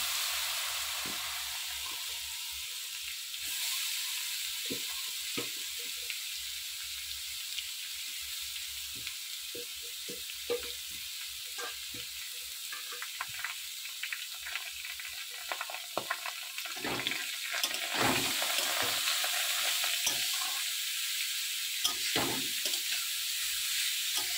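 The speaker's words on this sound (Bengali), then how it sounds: "ড্রাই ফ্রুটটা ভালোভাবে আমি ভেজে নিয়েছি। এর উপরেই দিয়ে দেব গ্রেট করা গাজরটা।" Grated carrot frying in a pan with fried dry fruits for carrot halwa: a steady, close sizzling hiss, with stirring scrapes that grow more frequent and louder toward the end.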